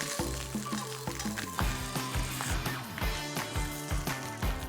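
Hilsa paturi, fish wrapped in leaf, fries in hot oil on medium flame, with a soft sizzle running under music that carries a strong, repeating beat.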